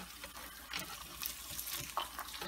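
Eggs frying in a hot cast iron skillet give a faint, steady sizzle close by, with soft scraping and stirring touches over it and no talk.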